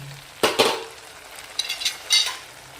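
A spoon works tomato, onion, green chili and ginger-garlic paste in a pan, with a short loud scrape and sizzle burst followed by softer stirring scrapes, close up.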